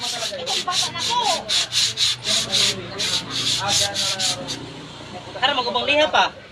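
Rhythmic back-and-forth scratching of sandpaper on wood, steady strokes close by, with a person talking briefly near the end.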